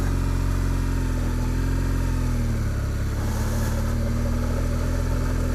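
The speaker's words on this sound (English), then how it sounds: "Keep the throttle on. Keep some revs." A motorcycle engine drones loudly and close, the revs holding steady then dipping and rising again, with constant rumbling throughout.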